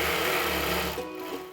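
Sewing machine quilting a T-shirt pillow, stitching in a steady fast whir that runs loud and close, then slows and softens toward the end.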